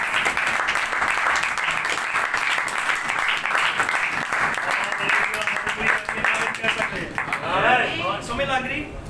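A church congregation claps for the Lord at a Punjabi Christian worship gathering, a dense sustained round of hand claps that holds steady for several seconds with voices calling out over it, thinning slightly near the end.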